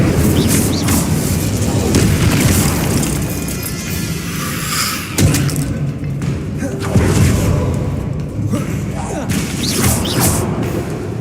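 In the video game Hogwarts Legacy, repeated Incendio fire spells burst as heavy booming whooshes and thuds, mixed with other loud combat effects in a continuous dense barrage.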